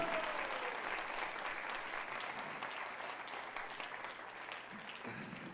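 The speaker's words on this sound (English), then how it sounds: "Wow, such an applause." Sustained audience applause at a Hare Krishna gathering fills the room, steady and dense throughout, slowly easing off toward the end.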